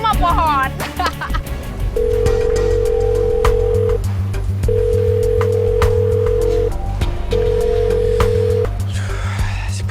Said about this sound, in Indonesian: Si Priscilla kenapa sih nggak ngangkat telepon gue?